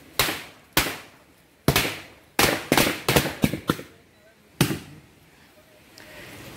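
Firecrackers go off outdoors beside the water at a traditional Konkan Ganpati immersion: about nine sharp bangs at irregular intervals, some close together, each with a short decaying tail.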